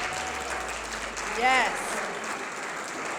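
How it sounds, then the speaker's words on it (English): An audience applauds role players at a reentry simulation event, a steady patter of clapping that swells briefly midway, with a voice speaking over it. "can I get a round of applause, please, for all of our role players?"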